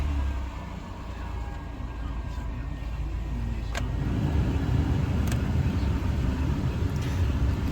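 A 2005 Chrysler Town & Country cold-starts and settles into idle, a steady low engine rumble that grows slightly fuller, with a few faint clicks above it.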